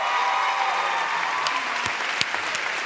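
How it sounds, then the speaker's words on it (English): Steady audience applause from a dance-show crowd, a dense, even wash of clapping that holds at a constant level with a few sharper individual claps standing out near the end. "Mary, you're applauding"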